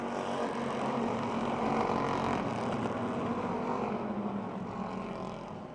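Race cars roar around the Motordrome Speedway oval at a slow green-flag start, a dense continuous engine drone from several cars blending together, fairly loud and steady before easing slightly at the end.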